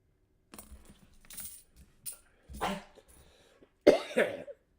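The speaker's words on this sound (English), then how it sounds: "I apologize for the coughing, but it's allergies" Someone with allergies coughs several times in short, close bursts while sorting dusty quarters, with faint coin clinks between the coughs and the loudest double cough near the end.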